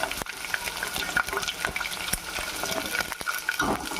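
Onion and green chilli pieces frying for rava upma make a steady close sizzle, with scattered clicks and scrapes of a stirring spoon against the pan.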